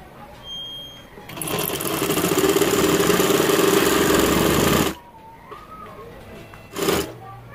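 A sewing machine stitches the side seam of a baby boy's fatua in one continuous loud whirring run of about three and a half seconds, then falls quiet before a short second burst.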